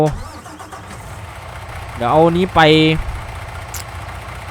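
A tractor engine in the Farming Simulator 19 video game starts with a rising mechanical whine and a loud burst of about a second, beneath someone talking over a steady low game background.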